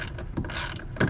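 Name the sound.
tightening a screw during Porsche 911 battery replacement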